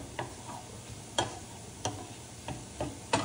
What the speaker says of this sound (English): I'm gonna saute this a little bit longer until the onions are cooked, translucent a little more before I add the mushrooms